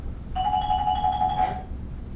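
A telephone rings with a single electronic trill burst, a steady warbling tone lasting about a second over low room noise, no voices.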